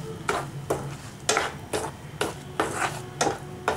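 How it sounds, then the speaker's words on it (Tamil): Ground masala paste sautés in a pan for a bitter gourd gravy, with a steady sizzle and rhythmic scraping as a spoon stirs about every half second, close and moderately quiet with no talking. "இது வதங்கட்டும்."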